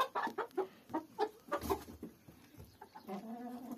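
Chickens cluck in a quick series of short, close calls, tapering into softer murmuring at the end.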